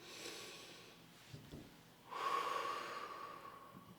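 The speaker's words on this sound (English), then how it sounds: "Breathe in." A person draws a deep breath in during an upper back stretching exercise, a close, soft airy inhale following a brief snort-like sniff, quiet and alone with no talking.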